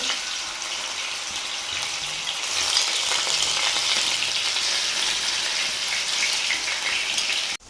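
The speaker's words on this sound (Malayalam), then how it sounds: "നമ്മളിതിലേക്ക് ബീഫ് ഇട്ട് വറുത്ത് കോരുകയാണ്" Continuous loud sizzling of beef frying in hot oil, a dense crackling hiss that swells slightly midway and runs without pause.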